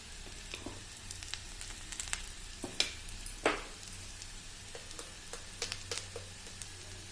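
Okra sliced into a pan of hot oil crackles and sizzles softly, with scattered pops and occasional sharper spits over a quiet, steady hiss, fairly faint overall.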